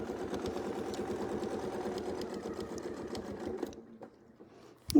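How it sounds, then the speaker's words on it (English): Sewing machine running a straight seam down a quilt lined up with a straight line template, a close steady whirring hum that stops near the end, followed by a brief quiet pause and a small click. "and I can just sew right down."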